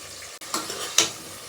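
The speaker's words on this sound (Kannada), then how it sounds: "ಈ ಥರ ಚೆನ್ನಾಗಿ ಫ್ರೈ ಮಾಡ್ಕೊಳ್ಳಿ" Onion, green chillies, cashews and mint leaves frying in a pan sizzle steadily nearby, broken by two sharp scrapes of a spatula stirring them, with no talking.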